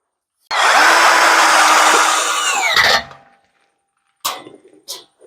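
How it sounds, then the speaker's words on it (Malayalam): A power drill drives a screw through a washer, a steady loud whine for a couple of seconds that slows and stops, followed by two brief handling knocks. "നമുക്കൊരു വാഷർ വെച്ച് ഒരു സ്ക്രൂവും കൂടി ഇട്ട് കൊടുക്കാം"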